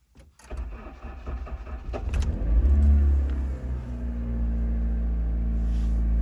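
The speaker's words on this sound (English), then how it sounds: "So let's start the vehicle and see what happens." A car engine cranks and catches with a low rumble, then settles into a steady idle that runs on alone, fairly close and loud, during a diagnostic scan-tool check.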